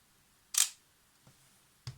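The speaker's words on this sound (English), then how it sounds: "This is the shutter from the Zorki" Shutter of a Zorki 3M rangefinder camera after a full service firing once with a sharp, crisp click, followed by a couple of softer mechanical clicks in a quiet room.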